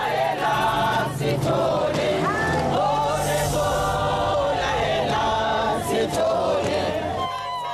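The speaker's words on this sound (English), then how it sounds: "Outside the courtroom, women banded together and voiced their anger in song" A crowd of women singing and chanting together in protest outside a South African courtroom, a steady loud chorus of voices throughout with no pauses.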